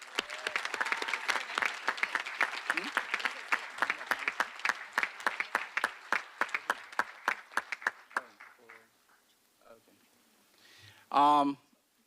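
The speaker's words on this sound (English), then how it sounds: "Let's give them a round of applause." Audience applause for college faculty and staff at a commencement ceremony, starting as a dense patter, thinning into scattered individual claps, then fading out before a brief voice speaks.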